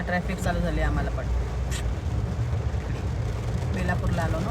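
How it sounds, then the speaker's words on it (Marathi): Road traffic starting to move after a long jam at a big signal on the way to Belapur, a continuous low engine rumble close by with people talking over it. "ट्रॅफिक चालू झाली आम्हाला पण"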